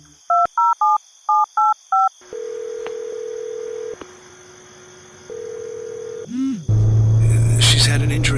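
Touch-tone telephone dialing: a quick run of DTMF beeps in two clusters, followed by steady ring or call-progress tones and a short warble before a louder noisy burst at the end.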